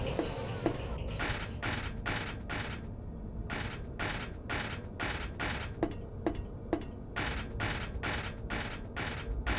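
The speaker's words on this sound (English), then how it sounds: "Heather just walks into Silent Hill, opening fire indiscriminately everywhere." Rapid gunfire in the Silent Hill 3 video game, a long series of sharp, evenly spaced shots in bursts with brief pauses, loud and close over a murky ambient game backdrop.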